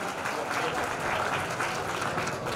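Audience applause fills a prize-giving ceremony for a community talent award, honouring girls who won at state level in badminton. The clapping is dense, steady and sustained throughout, with no pauses.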